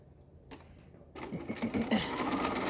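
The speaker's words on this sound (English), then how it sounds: "So you're going to sew" A sewing machine stitches a fabric face mask with a filter pocket. It starts after a brief soft handling noise, then runs in a steady, close, fairly loud whirring hum through to the end.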